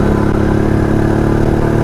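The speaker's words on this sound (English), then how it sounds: "This is a legendary motorcycle, the YESD D250 Classic" A 1991–1996 Yezdi D250 Classic two-stroke motorcycle engine runs at a steady, loud, close rumbling idle with a rattly, buzzing throb and no voices over it.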